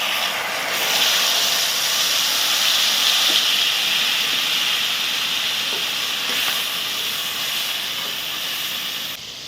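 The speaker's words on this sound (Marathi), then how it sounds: "त्याचा हा कोळ काढून घेतला आहे तो मी यामध्ये आता फोडणी घालते" Strong, steady sizzling hiss as soaked tamarind pulp meets a hot tempering in the pan for a guava kayras, loud and close, fading slightly toward the end, with no voices.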